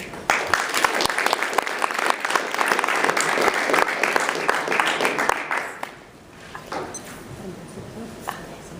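An audience claps warmly to welcome a speaker to the stage, a loud, dense burst of applause that tapers off after about six seconds into scattered claps and room noise.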